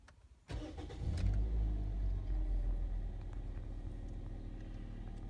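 A car engine turns over and settles into a steady idle around 1000 rpm, a close, even low rumble that holds constant after the start.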